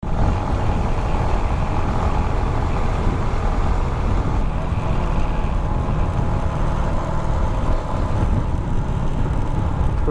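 Road traffic heard from a Honda RS125 FI motorcycle ride near Binangonan, a steady broadband roar of engines and wind, fairly loud and continuous with no clear talk.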